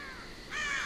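A single harsh bird call from gulls in the survival game SCUM, a faint grainy buildup then a louder raspy cry in the second half, heard alone.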